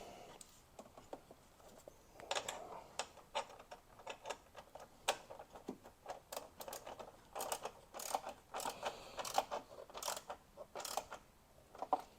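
Bolts are tightened with a ratcheting tool on the 12-volt battery hold-down of a Ford Mustang Mach-E, giving faint, close clicking bursts in short irregular runs with no voices.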